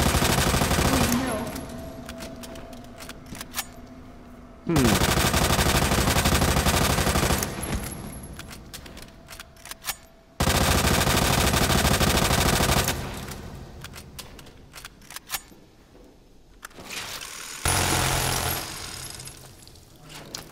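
An SMG in the Resident Evil 2 Remake game fires in several long, loud, rattling bursts separated by short pauses, with someone briefly speaking between them.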